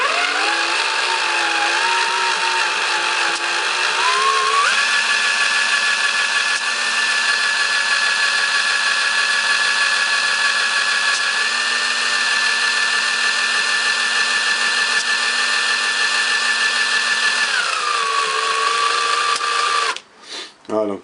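Compressor on an HHO hydrogen-oxygen separator project running at low rotation speed, a steady droning hum with layered tonal whine that shifts pitch near the start and end, then stops with a few clicks; no talking over it.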